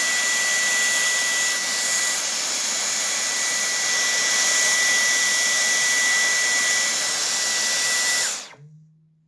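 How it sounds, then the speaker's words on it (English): Dyson cordless hand vacuum cleaner running on its boost setting: a loud, steady, high-pitched whirring roar with a thin whine that holds for about eight seconds, then cuts off abruptly as the motor is switched off. "On boost it is really a nice vacuum"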